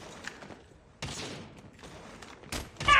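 Gunfire in the mobile shooter Call of Duty Mobile on a new map, several sharp bursts of shots at close range separated by brief gaps, with a louder burst at the end.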